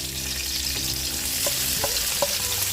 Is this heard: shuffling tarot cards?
no